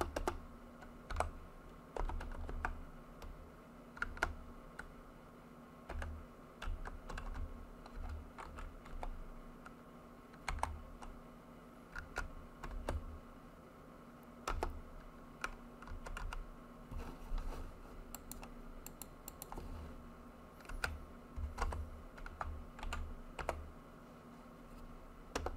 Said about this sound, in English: I'm just typing up something as a reminder to myself.